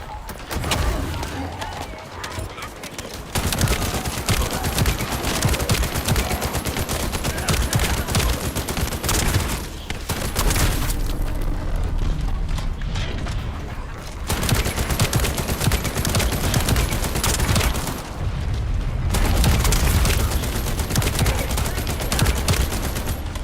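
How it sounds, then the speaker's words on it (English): Gunfire in the shooter game The First Descendant, dense rapid bursts of automatic weapons firing almost nonstop with brief lulls, loud and close under a busy game mix. "I don't think we stopped shooting our gun for barely a few seconds."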